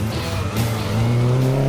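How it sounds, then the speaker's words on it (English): An all-wheel drive race-class Mitsubishi Evo 8 at an autocross championship round, its engine loud and close with rising pitch as it accelerates hard, with a brief tire squeal mixed in. "Omani Auto X team member, Mazen Al-Shaybani, an all-wheel drive race class Mitsubishi Evo 8, will start as the 3rd seed."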